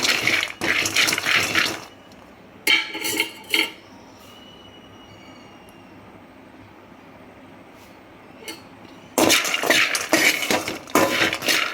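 Metal scraping and clinking as a burfi mixture is stirred in a pan, in loud busy bursts at the start and end with a quiet stretch in between.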